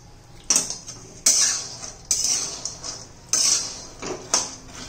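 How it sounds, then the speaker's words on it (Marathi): Small native peanuts are dry-roasted in a pan over medium heat, with repeated loud rattling sweeps as the nuts are stirred and tossed, five bursts in quick succession, close and without talk. "आता मी हे शेंगदाणे व्यवस्थित भाजून घेते।"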